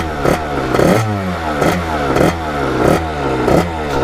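A Kawasaki KX80 big bore two-stroke dirt bike engine runs warmed up, loud and close, with a rough buzzing idle and regular throttle blips roughly every two-thirds of a second, no talk.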